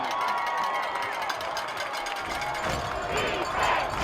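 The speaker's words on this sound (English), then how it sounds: "Crowd comes to life here" Crowd noise rises at a high school football game, a broad roar of cheering that swells toward the end and sits under steady commentary.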